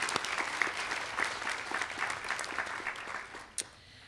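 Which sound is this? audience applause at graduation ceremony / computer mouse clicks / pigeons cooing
audience applause at graduation ceremony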